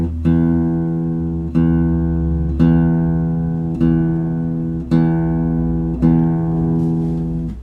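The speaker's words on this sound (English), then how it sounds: "my in-tune guitar should sound about like that" Six strings of an in-tune guitar are plucked one at a time at a steady pace, each note ringing and fading before the next.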